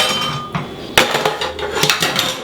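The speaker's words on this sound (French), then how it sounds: "Remue un peu comme ça." A spoon stirs Hungarian goulash in a cooking pot, clinking and scraping against the metal with a few sharper knocks. The stirring is close and fairly loud, with no talking.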